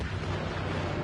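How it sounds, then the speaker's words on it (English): Dense, continuous rumble of explosions in the Star Wars Battlefront video game, a loud, unbroken wash of blasts with no distinct individual booms and no talk. "I hear explosions"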